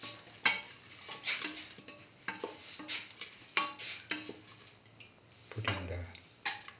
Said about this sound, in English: Keep on mixing.